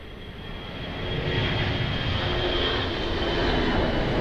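An airliner takes off at Lisbon Airport, a steady broadband jet-engine roar that swells after the first second and then holds loud and constant.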